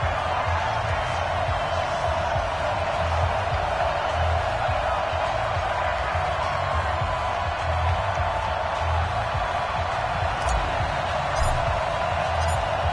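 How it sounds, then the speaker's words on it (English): Steady, dense stadium crowd roar from an EA Sports NFL video game matchup between the Chicago Bears and Seattle Seahawks, a continuous cheering wash that holds level throughout with faint low thumps underneath. "This crowd is ready as their guys get set to match up between the Chicago Bears and the Seattle Seahawks."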